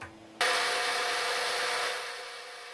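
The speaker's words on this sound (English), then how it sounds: "And we'll mill our face." A milling machine spins up a miniature fly cutter to face-mill a part, starting with a quiet motor hum and then a sudden, steady, bright hissing whir of cutting that eases slightly toward the end.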